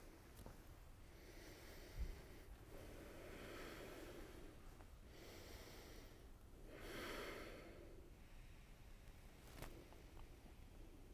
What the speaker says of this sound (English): Long and deep breathing.